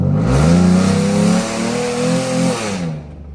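A loud truck engine revs up with a raspy, droning exhaust, holds briefly, then eases off before cutting away.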